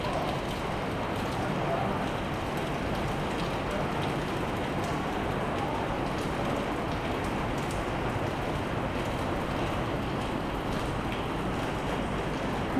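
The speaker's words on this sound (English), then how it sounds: "It's starting to rain." Rain falling on St. Roque Street in Macau, a steady dense hiss of drops on the pavement that holds at an even level throughout, with no talk over it.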